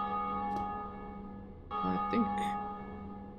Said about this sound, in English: that's actually another player ringing the bell